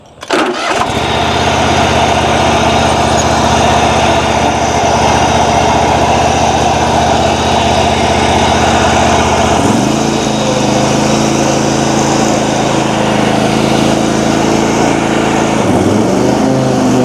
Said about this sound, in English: let's mow some grass here. Oh, we got a lot of weedy grass that we're gonna have to mow here today